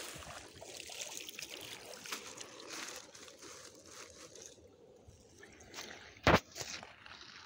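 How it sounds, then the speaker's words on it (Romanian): A bag is pulled out of river water at the bank, with soft trickling and sloshing water through most of the clip and one sharp, loud splash-like burst near the end, close by. "Voi scoate și punga din apă."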